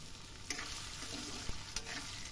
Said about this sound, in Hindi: आलू को भी मिक्स कर देती हूँ।